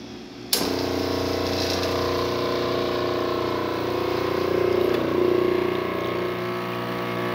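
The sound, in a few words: La Cimbali Junior espresso machine pulling a double shot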